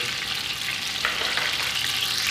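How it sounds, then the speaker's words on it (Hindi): Four chopped onions sizzle in ghee for chicken pulao, giving a steady close hiss with faint stirring and no voices. "ये 4 अदद प्याज चॉप करके 4 चम्मच ये वाला घी है इसके अंदर डाला है।"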